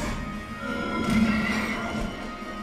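A horse whinnies in the video game Child of Light, a short tonal neigh rising over a steady background of game music and effects at moderate loudness.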